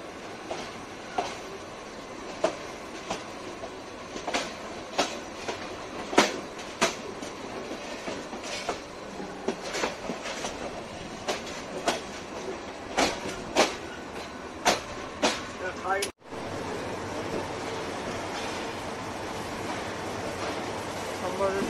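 A passenger train running through Dhaka from Airport station toward Kamalapur station, heard from inside the carriage: a steady, loud rumble with rhythmic clickety-clack wheel beats roughly every second and a brief drop-out partway through.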